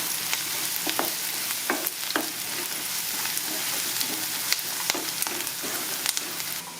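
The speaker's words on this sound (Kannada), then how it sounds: "ಈಗ ನೋಡಿರಿ ಉಳ್ಳಾಗಡ್ಡೆ ಎಲ್ಲ ಫ್ರೈ ಆಗ್ಯಾವು" Steady crackling sizzle of onions frying in a pan for mango chitranna seasoning, with sharp scrapes and clinks of a spoon stirring at irregular intervals.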